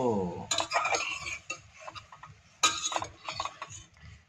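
A utensil stirs an eggplant fry in a pan, giving soft scraping and clinking strokes in irregular bursts at a quiet level, with a faint murmur of a voice in the background.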